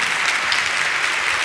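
Audience applause for Barb Larson-Taylor at Nobel Conference 60, a dense, steady wash of many hands clapping from a large crowd, loud and continuous throughout with no talk over it.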